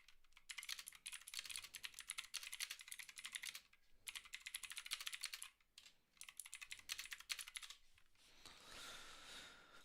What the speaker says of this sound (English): I can tell from the fact that my keys are typing